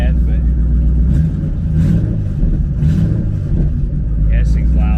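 A car at an auction lot idles loud and rough with a steady deep rumble throughout, while a person talks over it.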